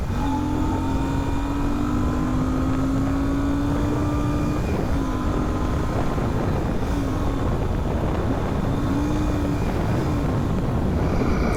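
A Royal Enfield Classic 650 motorcycle cruising under torque, its engine holding a steady droning note that slowly rises in pitch, heavily buffeted by loud wind rush throughout.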